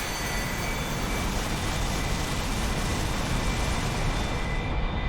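An A-4E jet takes off from a runway in the DCS flight simulator, a loud, steady, broadband engine roar that holds throughout, with no talking.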